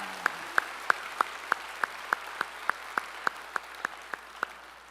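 Sharp, evenly spaced claps ring out in a steady rhythm at a church service, about a dozen of them, fairly faint and distant.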